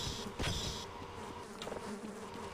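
A swarm of bees in the game Half-Life gives a steady, fairly close insect buzz that rises briefly at the start and carries on alone without talk.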